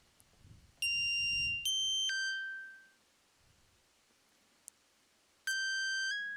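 Bright synthesized tones step down in pitch in a short sequence, pause amid faint rumbles and a single click, then start again.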